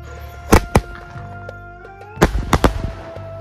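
A five-shot aerial firework cracker from Sivakasi, set off for Deepavali, bursts loudly and close: two sharp bangs first, then after a pause a quick cluster of three more cracks.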